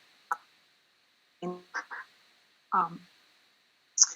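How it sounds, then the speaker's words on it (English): A duck quacking in short separate bursts, some calls doubled, fairly close and clear against a quiet background with a faint steady tone. "I'm distracted by a bird I caught"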